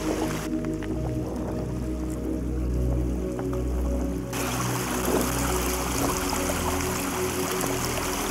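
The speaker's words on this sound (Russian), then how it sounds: "Это все талая вода." Meltwater stream trickles and gurgles steadily close by, a continuous babbling flow with faint squishy splashes and no voices.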